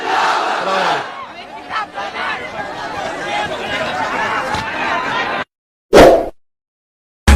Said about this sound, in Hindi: तो मेरे साथ नारा लगाइए, नारे तकबीर, नारे तकबीर, नारे तकबीर।